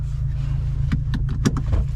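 An 11th-generation Honda Civic fitted with a 27WON turbo inlet runs with a steady, close low engine rumble, punctuated by a few brief clicks and whooshing transients near the end.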